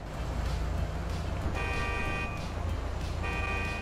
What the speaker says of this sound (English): Dude, I'm double honking, dude.